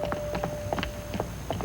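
A horse's hooves clip-clop at a steady walking pace, evenly spaced moderate knocks over a faint hum, with no talking.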